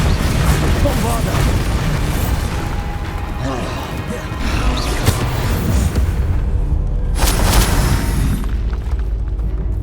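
A Bombarda spell blast in Hogwarts Legacy lands amid continuous dense game combat noise, with a bright burst of crash and rumble near the end over a steady low roar.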